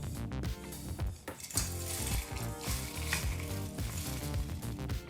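Spices and other ingredients roasting in a hot pan for seasoned rice, giving a steady crackling sizzle with scattered clinks and scrapes, moderately close and continuous with no talking.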